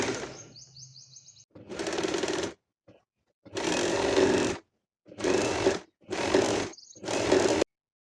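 A sewing machine stitches a folded fabric strip for a kurti side slit, running in several loud, close bursts of rapid rattling needle strokes separated by short silences, with no talking.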